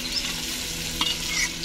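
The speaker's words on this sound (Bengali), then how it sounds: "এখন ভালো করে মশলাটা কষিয়ে নেব 5 মিনিট ধরে" Masala for a vegetarian doi potol dish sizzles in oil in a pan, a steady close hiss with a single faint stirring scrape.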